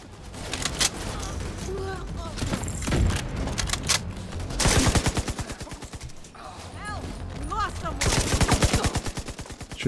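Rapid gunfire from a combat sequence in The Division 2 at the Potomac Event Center, bursts of automatic fire and heavy booms packed densely together, loud and continuous with brief lulls.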